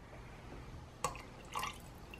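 Fish sauce (patis) drips and splashes into an Instant Pot holding rice, chicken broth and water, a few faint liquid plinks over a quiet room hiss.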